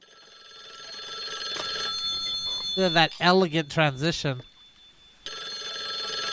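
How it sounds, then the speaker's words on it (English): A telephone rings in a movie being watched, a steady electronic ringing tone that sits in the background before and after a short stretch of talk. "I think that might be my phone ringing"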